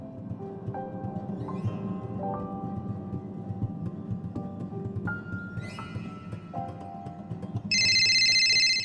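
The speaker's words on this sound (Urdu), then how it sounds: "پرائیویٹ فون کی گھنٹی کی آواز" A private telephone in a radio drama starts ringing near the end, a loud, steady electronic ring cutting in over ongoing background music.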